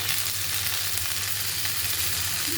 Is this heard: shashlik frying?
yes